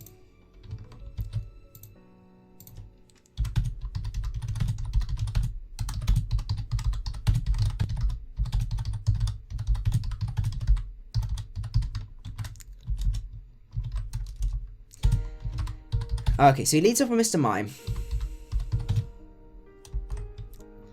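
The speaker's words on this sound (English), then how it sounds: "Typing and talking is a hard thing to do." Rapid clatter of computer keyboard typing during a Pokemon Showdown session, steady and close for most of the stretch, with a brief spoken line near the start and a burst of other noise toward the end.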